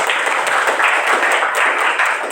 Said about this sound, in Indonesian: Oke, aplaus untuk Sri.